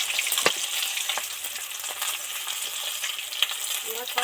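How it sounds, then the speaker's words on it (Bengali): Vetki fish deep frying in hot oil, a dense, steady sizzle with crackling spatter and a few sharp metallic clinks, close and continuous throughout. "মাছগুলো তো সব ডিপ ফ্রাই করে ভেজে নিলাম এবার তেল থেকে ঠেকে ঠেকে একটা করে উঠিয়ে নেব"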